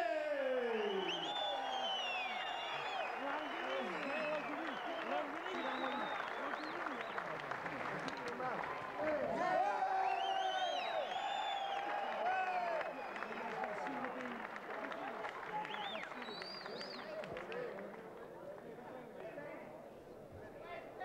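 A big crowd at an Australian World Kickboxing Association super heavyweight title fight cheers and applauds the champion in a steady, roaring wash of noise, with a commentator talking over it throughout.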